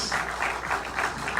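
An audience at a Senate candidates' forum in Baja California applauds, a dense wash of clapping hands that swells in rhythmic waves and carries on steadily without any voices.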